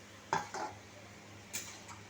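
Water poured into a pot of simmering fish-head curry with potatoes and aubergine, then a lid set on it: a few faint metallic clinks and knocks, two clustered early and two later, in a quiet kitchen.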